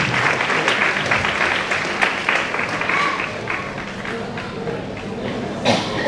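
An audience at a charitable trust's honour ceremony in Surat applauds a guest, producing sustained, crowded clapping at steady volume, with voices murmuring underneath and a brief swell near the end.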